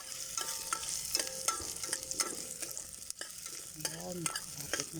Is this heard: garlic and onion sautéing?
yes